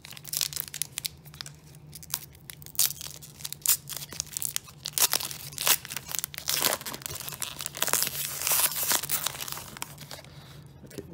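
Card pack wrapper being torn open by hand, a sustained crinkling and tearing of foil-like plastic with sharp crunchy bursts over a low steady hum, no talking.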